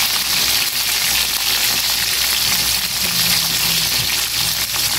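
Fish fries in a pan with tausi, Bicol-style, giving a steady, loud sizzle and crackle of hot oil that stays constant throughout, with no talking.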